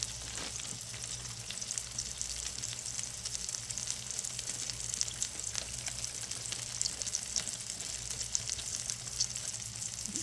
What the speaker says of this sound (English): I'm taking my burgers, I'm browning them up, not burning them, just browning them up